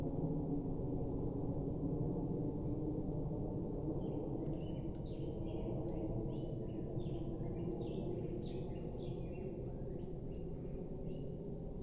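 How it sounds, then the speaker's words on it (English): Scattered high chirps and bird calls in the distance over a steady, dense low rumble of outdoor noise. "You can hear those lovely bird calls."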